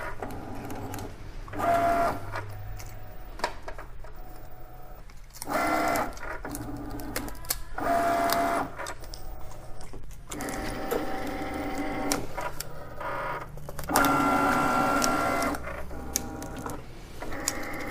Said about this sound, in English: Now it's going to register all those little Cricut marks.